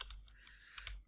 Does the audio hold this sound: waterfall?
no